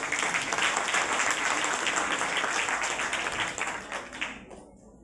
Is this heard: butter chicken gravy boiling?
no